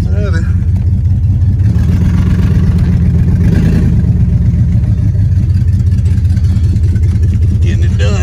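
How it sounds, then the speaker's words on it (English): Steady low rumble of a 2000 Chevrolet Silverado HD 2500 pickup with about 300,000 miles driving slowly through city streets, loud and close from inside, with a voice speaking over it. "Listen to this truck though."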